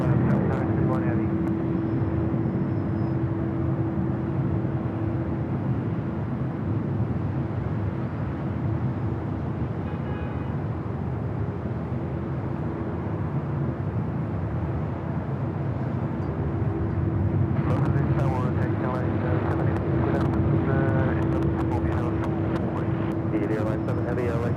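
A heavy airliner, such as a 767-300ER, rumbles steadily at LAX airport as it waits for departure, a constant broad engine roar with a faint tonal whine, fairly distant, with faint voices behind it.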